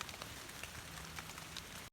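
Steady rain patters on leaves and surfaces during mushroom picking outdoors, a soft continuous drizzle with scattered drop taps and no talking.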